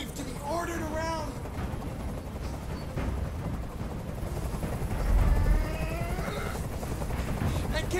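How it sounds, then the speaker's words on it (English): A steady, droning helicopter rumble runs throughout, fairly loud and continuous, with brief tonal squeals and scattered sharper sounds on top and no clear speech. "I can't stand that noise anymore. Tell that helicopter to get out of here."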